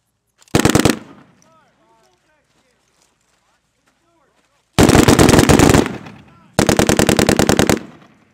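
Crew-served machine gun firing on a live Marine range, one close, loud rapid burst and then two more sustained bursts after a pause with faint outdoor background.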